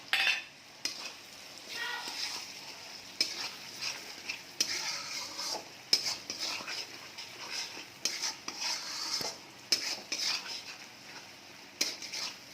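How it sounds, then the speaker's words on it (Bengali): Chopped tomatoes sautéing with fish curry masala in a pan, a soft sizzle under frequent clinks and scrapes of a spatula against the pan, quiet and close, with no voices. "নুন দেওয়ার পর আমি আবার একটুখানি কষছি।"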